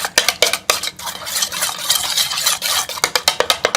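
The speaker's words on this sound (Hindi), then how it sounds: "ये 2 अंडे हैं, इसको तोड़ लेंगे और इसको अच्छी तरह से फेंट देंगे।" Two eggs being whisked in a bowl for an omelette paratha: a quick, steady run of close metallic clinks and scraping strokes of utensil against the bowl, loud and continuous with brief pauses.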